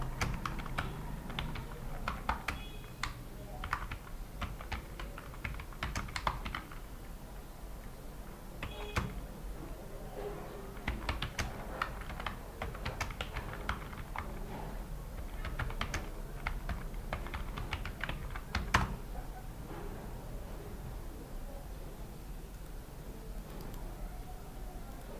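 Steady typing on a computer keyboard in Microsoft Word 2007, quiet and close, with irregular bursts of keystrokes and short pauses throughout.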